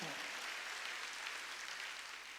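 A church congregation applauding during a Sunday service, a dense wash of many hands clapping at once, steady and somewhat distant, heard for a couple of seconds.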